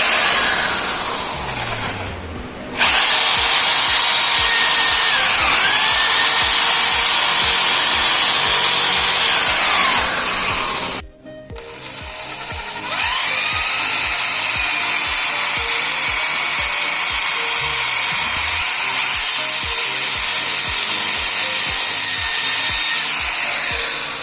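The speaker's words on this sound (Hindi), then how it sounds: "मैं आपको ड्रिल मशीन से लगा के दिखाता हूँ कि कितने फास्ट हम इसको लगा सकते हैं।" Black & Decker reversible hammer drill boring holes, loud steady high-pitched whirring in two long runs of about eight and eleven seconds separated by short pauses, with no talk.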